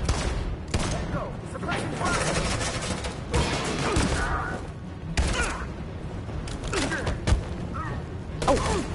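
Gunfire in the video game Detroit: Become Human, with loud repeated shots and bursts throughout, mixed with game crashes and effects, and a player shouting over the shooting.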